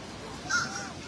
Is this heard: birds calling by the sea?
yes